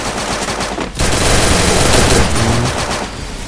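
Rapid automatic gunfire in the Free Fire video game, loud and close, with a short burst, a brief gap, then a long sustained volley of shots and no speech.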